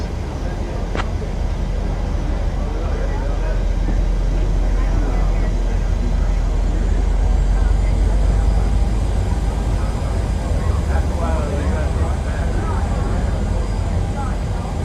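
A steady, loud jet-engine roar from an airliner taking off on runway 08 right in Microsoft Flight Simulator 2020 continues throughout, while radio-style voices talk over it.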